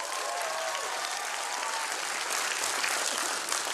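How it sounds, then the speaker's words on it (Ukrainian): Audience applause at a Lviv comedy show, a dense steady wash of clapping that fills the whole stretch at an even loudness, with no voices over it. "Ваші оплески, друзі!"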